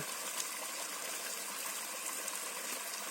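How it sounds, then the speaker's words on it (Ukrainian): A steady gurgling, bubbling rush of water runs continuously and softly from a small aerator pump adding oxygen to the water in a tank. "Це такий хитрий насос працює. Трошки кислороду додає."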